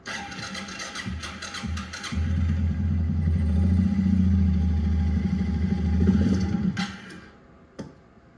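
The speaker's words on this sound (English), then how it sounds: "I can barely breathe on that throttle and it dies like that" A Suzuki King Quad 750 ATV with a poor-start, random-stalling fault sputters at idle, then rumbles up under a gentle throttle blip for several seconds before the engine abruptly dies, leaving a brief clunk and quiet.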